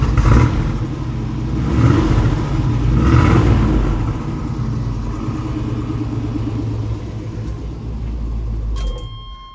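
A 1986 Chevrolet K5 Blazer engine rumbles and revs as it drives, loud and close with rising surges of acceleration, then the engine note fades away before a short electronic tone near the end.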